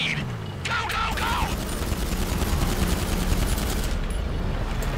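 Gunshots in GTA 5 Online during a Drug Wars train mission, a thick, steady rattle of rapid fire throughout, with brief voices calling out near the start.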